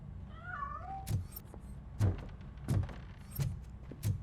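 A cat in the Robocop: Rogue City video game gives a rising, wavering meow early on, followed by several soft, irregular thuds and knocks at moderate level without speech.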